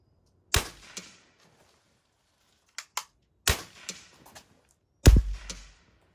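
An air rifle fires domed pellets at can targets 20 to 50 yards away, giving four sharp, separate cracks with short gaps between them. Each report is close and loud, and a faint ring or impact follows some of the shots.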